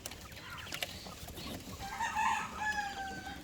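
Pet quail kept as a hobby, about 80 days old and just starting to lay, give a few short, shrill calls that rise over low farmyard background noise, with the clearest calls near the end.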